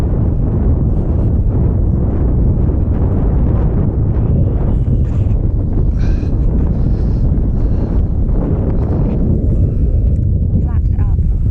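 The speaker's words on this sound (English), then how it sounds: "Too windy, folks." Strong wind batters a microphone aboard a small aircraft, producing a continuous loud low buffeting roar with faint higher sounds passing through it.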